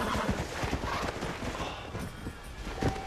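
Horse hooves clip-clopping with neighs in the video game Red Dead Redemption, a steady hoof rhythm under a dense, noisy game soundscape.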